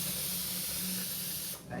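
Steady hiss of steam escaping from a pressure cooker whistle while chicken biryani cooks, a loud continuous rush that cuts off sharply near the end before a softer hiss returns.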